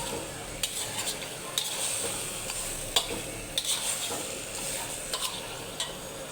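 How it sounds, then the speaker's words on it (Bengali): Fish head and bottle gourd frying together with spices in a pan give a continuous hissing sizzle, punctuated by regular metallic clicks and scrapes as the pieces are stirred. "লাউ আর মাথায় যে কষাই নিচ্ছি একসঙ্গে দিয়ে দিচ্ছি এখন কষাইয়ে নিচ্ছি"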